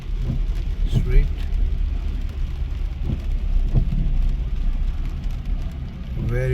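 Heavy rain falls on a busy street in Queens, New York City, as a constant wet hiss over the low rumble of passing traffic, with someone talking over it throughout.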